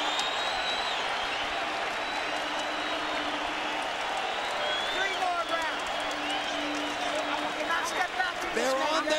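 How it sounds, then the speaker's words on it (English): Boxing arena crowd on its feet during a late round, applauding and cheering with a dense, continuous roar, while a commentator's voice talks over it and a sharp thump or two lands near the end. "They're on their feet, standing and applauding both fighters."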